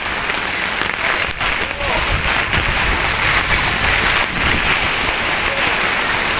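Heavy rain pours down steadily during Super Typhoon Kristine in Bay, Laguna, a dense, unbroken hiss of water drumming on surfaces all around, loud and continuous.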